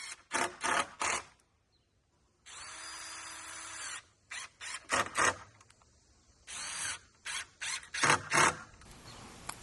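A power drill drives 1 5/8 inch screws with large washers into a 2x4 to mount a solar street light, heard as short whirring bursts and one longer sustained run, with pauses between.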